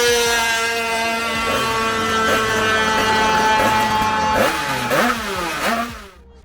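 A modified drag-racing motorcycle at a Spanish drag race revs hard and accelerates, its engine note climbing through several gear pulls before fading away, loud and close with no voices.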